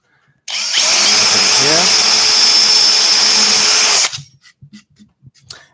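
Power drill boring a hole in wood for a workshop sign, a loud, close, steady whine lasting about three and a half seconds before stopping, followed by a few light knocks and a brief spoken word.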